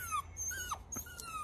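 A puppy whimpers in a car repair workshop, giving a few short, high, wavering whines that rise and fall over a faint low background hum.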